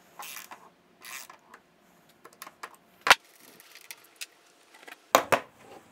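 A threaded insert is screwed onto a bolt carrying washers for a small woodworking mortising jig, giving scattered close clicks, scrapes and metallic ticks in an irregular rhythm with two louder sharp snaps.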